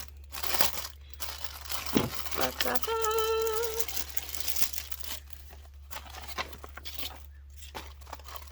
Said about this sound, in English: sorry, crinkling noise. I haven't opened any of these yet.